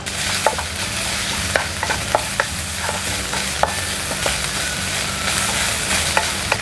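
Tom yum paste stir-fries in about a tablespoon of oil in a pan. It gives a loud, steady sizzle with a scattering of sharp scraping clicks from stirring throughout.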